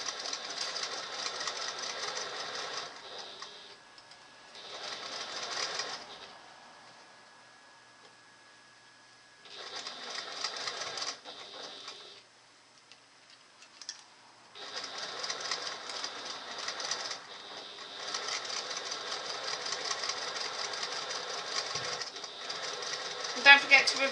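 A sewing machine stitches fabric for a small bag in several bursts of rapid ticking, pausing between runs, with a faint voice in the quiet gaps.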